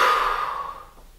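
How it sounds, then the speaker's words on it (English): A single long exhale during an abdominal core exercise, a breathy hiss that starts strong and fades away over about a second, close and alone with no talk. "you're going to breathe out"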